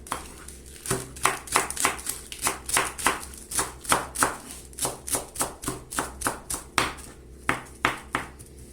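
Steady rapid knife chops through curly lettuce on a cutting board, about thirty crisp strokes in a brisk, slightly uneven rhythm, close up with no talking.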